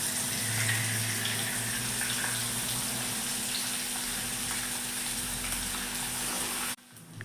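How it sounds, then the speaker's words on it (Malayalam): Masala-coated fish frying in hot oil, Kerala style, a steady loud sizzle and hiss that holds for several seconds before cutting off abruptly. "ഇനി നമ്മൾ ഈ ചൂടായ എണ്ണയിലേക്ക് ഓരോ മീനും ഇട്ട് കൊടുക്കുക"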